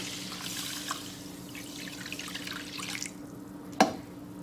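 Two cups of water trickling and splashing softly into a pan of quinoa, steady for a few seconds before tapering off, followed by a single sharp clink.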